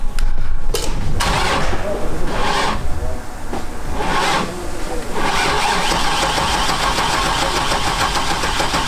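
A Datsun swapped to a turbocharged 6.0 Chevy LS V8 cranks and fires up, then settles into a loud, rough, rumbling idle close by, with brief talking over the engine.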